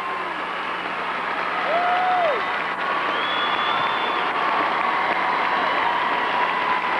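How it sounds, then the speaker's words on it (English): A large awards-show audience for the Academy of Country Music's Artist of the Decade keeps up loud, sustained applause and cheering with scattered whoops, a steady roar that fills the hall throughout. "please save some of that applause"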